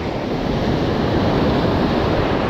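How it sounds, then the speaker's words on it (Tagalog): Wind-driven sea waves make a steady, loud wash of surf, with wind buffeting the microphone throughout and no voices. "Medyo lumakas yung alon kasi may hangin."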